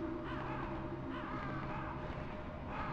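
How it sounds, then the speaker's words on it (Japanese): A crow caws in the video game Metal Gear Solid: a few harsh, drawn-out calls repeat over a steady game ambience, with no one speaking. "なんかカラスがいるんやけど"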